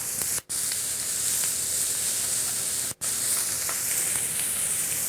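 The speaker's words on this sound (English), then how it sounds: "we're going to take our roast, just place it right into the pan just like this, and then we're going to sear that on all sides" Roast beef sears in a Health Craft induction pan with a loud, steady, close hiss and sizzle. Two brief drops to near silence break the sound.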